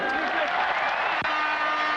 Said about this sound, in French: Très applaudi par le public des Girondins de Bordeaux.